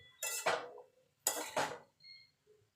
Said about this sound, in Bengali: এবার ঢাকা দিয়ে শাকটাকে আমি ভাজা ভাজা করে নেব।